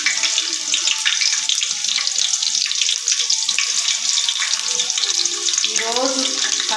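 Onions frying in a pan for chicken curry, a dense, loud, continuous sizzle that roars like running water, close, with faint voice-like tones near the end.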